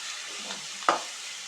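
Tomatoes frying in a pan for bitter gourd pulusu give a steady soft sizzle, broken by one brief scraping stir of a spoon against the pan.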